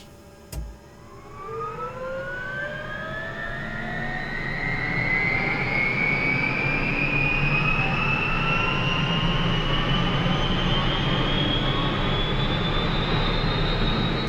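A simulated UH-1H helicopter turbine engine starts up in Microsoft Flight Simulator, a click followed by a rising whine that climbs steadily in pitch while the rotor spins up into a loud, sustained roar.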